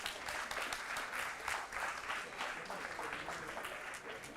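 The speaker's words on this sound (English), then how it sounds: "Let's give the San G athletes another round of applause." A board meeting audience gives high school athletes a round of applause, dense, even clapping from a crowd that carries on throughout.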